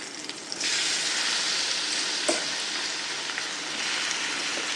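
Cashews tipped into a pan of simmering raw mango curry, the sizzle flaring up loud and steady after a quieter start, with one brief clink partway through.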